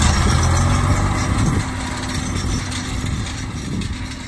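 A New Holland tractor engine idles nearby with a steady low rumble, out in a hayfield during third-cut hay raking and baling, the level easing slightly after a second and a half.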